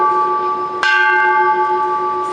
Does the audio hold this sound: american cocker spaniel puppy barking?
no